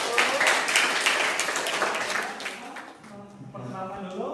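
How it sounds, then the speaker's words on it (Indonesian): Classroom applause for a student group, a short burst of clapping from a small crowd that fades out and gives way to speech. "tepuk tangan untuk kelompok"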